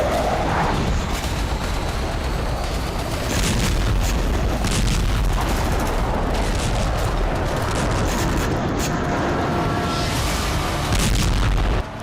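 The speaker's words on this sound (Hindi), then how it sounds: "जहां जबरदस्त ब्लास्ट के साथ ही आसपास का इलाका थर्रा उठा" Heavy explosion in Russia's Rostov region, with a dense, sustained roar of blast and rumble running continuously and loud throughout.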